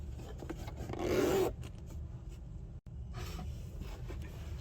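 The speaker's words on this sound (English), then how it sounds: "We can open the zipper." A zipper on a fabric pouch pocket is pulled open in one quick rasping run lasting about half a second, close and fairly soft, followed by faint handling rustles.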